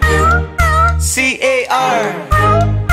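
Cat meows ring out within a children's farm-animal sing-along, several rising and falling mewing calls set against the sung melody and steady musical backing.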